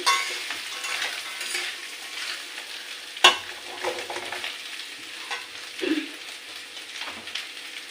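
Food being turned and stirred in a hot frying pan of leaf rolls, a continuous crackling sizzle broken by occasional scrapes and one sharp knock, close and steady, no voices.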